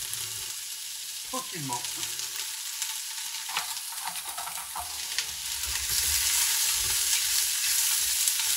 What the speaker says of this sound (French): Et je mets la totalité de mes oignons et de mes carottes. Que je vais faire revenir évidemment